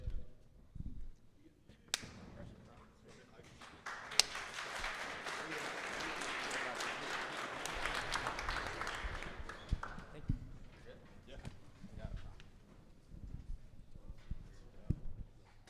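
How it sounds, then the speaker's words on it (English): An audience at a business mastermind event breaks into applause that swells over several seconds and then tapers off, with scattered claps and some talk at the edges. "Let's give one more round of applause for Eddie"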